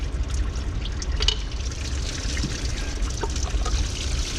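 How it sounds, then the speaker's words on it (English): Engine coolant pours and trickles out of a loosened water pump on a GM 3.6L V6, a steady splashing liquid stream that runs continuously and fairly loud. "Lots of coolant coming out."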